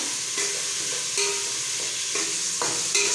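Lengthwise-cut tomatoes sauté with carrot and potato in a pan for mint pulao, giving a steady close sizzle broken by several sharp spatula stirs and scrapes, with no talking.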